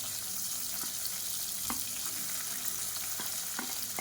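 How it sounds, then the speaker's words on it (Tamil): Long-sliced onions with a handful of mint leaves frying in hot oil for a salna side dish: a steady, close sizzle with occasional soft stirring taps, and no talking. "இப்போ இதில் நீளமாக நறுக்குன வெங்காயம் சேர்த்துக்கலாம்."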